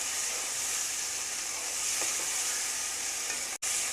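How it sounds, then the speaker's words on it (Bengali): Marinated chicken fries with onions in a pan over a medium flame for chicken tahari, giving a steady, close, continuous sizzle and hiss throughout. "মিডিয়াম ফ্লেমে আমরা চিকেনটাকে একটু ফ্রাই করে নেব"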